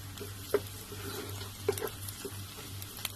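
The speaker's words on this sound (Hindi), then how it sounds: "देखिए हमारे प्याज सौते हो गए हैं" Onions sautéing in a pan, a soft continuous sizzle under a low hum, broken by a few small, close pops and stirring taps.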